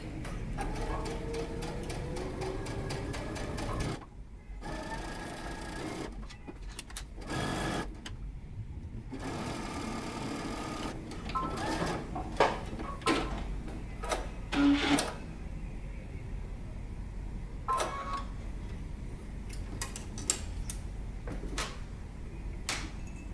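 A sewing machine stitches in the ditch along the seam of a pant leg in short runs, starting and stopping with clacking and handling noises between bursts, close and without talk.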